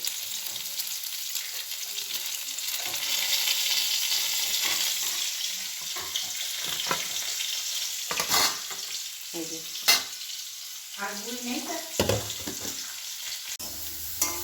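Fried pitha rice cakes sizzle in hot oil as a spatula stirs and lifts them, a steady close frying hiss broken by several sharp scraping knocks and clinks, no talk over it.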